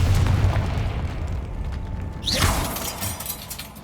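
A Confringo blasting-curse explosion in Hogwarts Legacy lands as a single whooshing burst midway, over a low rumbling game ambience.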